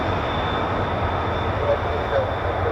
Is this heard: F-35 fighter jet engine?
yes